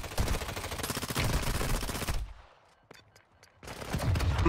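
Rapid bursts of light machine gun fire in the Warzone Mobile game, loud and close, rattle for about two seconds, then a quiet gap with a few faint distant shots before heavy firing resumes.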